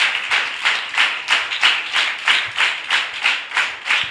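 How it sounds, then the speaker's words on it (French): Church congregation clapping in a steady rhythmic beat, about three claps per second, loud and close, with no talk over it during worship praise. "Applaudis pour le roi des rois."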